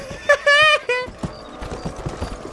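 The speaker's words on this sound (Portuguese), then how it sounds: "Será que tem como roubar o cavalo dela?" In the video game Red Dead Redemption, a horse whinnies loudly in a few rising bursts, then hooves clip-clop steadily and more softly, with faint voices underneath.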